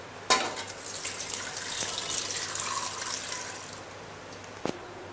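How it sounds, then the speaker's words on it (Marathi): Water from a glass poured into a pressure cooker fitted with a steaming stand, a steady close splashing pour that starts abruptly and runs for a few seconds before tapering off, followed by a couple of light clinks. "त्यामध्ये आपण दीड दोन ग्लास पाणी टाकूया"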